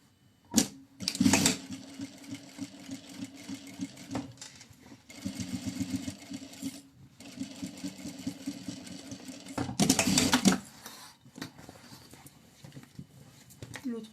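A domestic sewing machine runs bursts of stitching back over an earlier seam on a handmade bag, its rapid mechanical chatter starting and stopping in several runs with brief pauses between.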